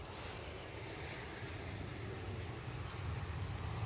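An Air France airliner takes off at Edinburgh Airport, a distant steady jet engine roar with broad rumbling noise that swells slightly louder toward the end.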